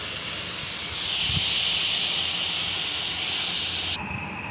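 Steam hisses loudly from a pressure cooker as it is released, a steady broadband rush that swells after the first second and then cuts off abruptly near the end.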